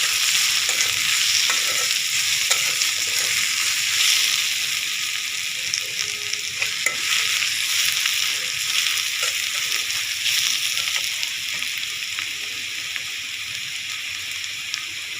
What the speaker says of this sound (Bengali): লবণ দিলে তাড়াতাড়ি পেঁয়াজটা নরম হয়ে যায়।